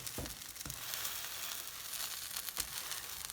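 Sweetcorn and spring onion fritters sizzle in a hot pan, with a few soft thuds as they are flipped and pressed down under the steady crackling hiss.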